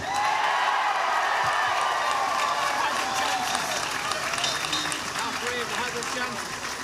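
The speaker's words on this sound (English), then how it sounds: "I'd like you all to give a massive cheer to our management team of Carl Daly, Adrian Sherry, Tommy Fitzgeral" A big crowd cheers and applauds loudly after a Galway senior hurling final replay between Loughrea and St Thomas, sustained clapping and whoops that ease gradually, with voices shouting through it.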